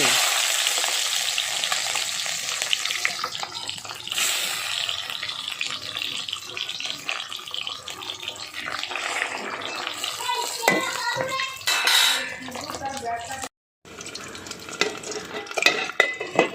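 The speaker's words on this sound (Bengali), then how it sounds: "এবার মাছগুলো আমি ভেজে নিচ্ছি মাছগুলো তেলের উপরে দিতে যা ফাটছে" Loud, continuous sizzling and spluttering of pabda fish frying in hot oil, with occasional clinks of stirring and a brief cut-out near the end.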